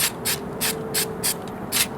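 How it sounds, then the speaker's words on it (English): Paint stripper sprays from a trigger bottle onto scale model parts in a pan, about seven short hissing bursts in a steady rhythm, close and fairly loud. "spray them down with the stripper,"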